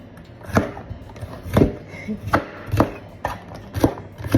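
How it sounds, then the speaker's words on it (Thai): A knife chops bell pepper on a cutting board in steady, evenly spaced strokes, close and crisp, with light background noise between cuts. "เห็นไหมเอ่ยหั่นพริกหวานทุกคน"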